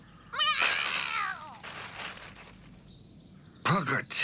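A cartoon cat meows in a children's animated firefighter show, giving several drawn-out, wavering cries with a final sharp meow near the end, mixed with other cartoon sounds.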